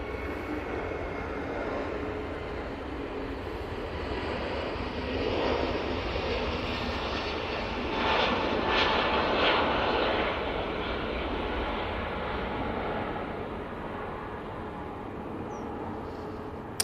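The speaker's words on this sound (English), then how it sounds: "that 321 Neo is off to Dalaman" Airbus A321neo jet departing Manchester Airport, a steady distant engine roar that swells slightly in the middle and then holds, with no voices.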